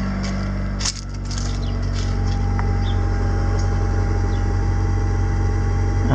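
A 1990s-era Mitsubishi Galant VR4, fresh from a fuel pump install, cranks and catches near the start, then settles into a steady, close-up idle with an even humming drone.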